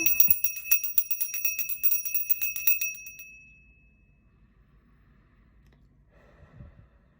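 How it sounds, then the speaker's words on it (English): A bell rung for a spiritual cleansing during a full moon healing session, struck rapidly and repeatedly for about three seconds, then its ringing tone fading into quiet room sound with soft breathing. "gonna cleanse with the bell"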